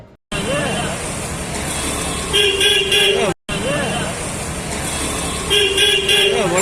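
Busy road traffic rumbles with repeated car horn toots, while voices chatter in the background throughout.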